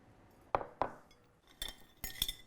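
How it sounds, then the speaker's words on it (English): Spanakopita salad with feta, salt and black pepper being mixed in a bowl: a few sharp, quiet clinks of a utensil against the bowl, spaced apart, with no talking. "I'm going to mix this now all together."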